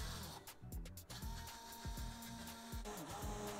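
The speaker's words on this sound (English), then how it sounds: "Use a stick blender to mix everything together." A stick blender purees cauliflower soup in a pot with a high, whirring motor whine and short bursts of sloshing as the blade moves through the thick mixture, close and fairly quiet.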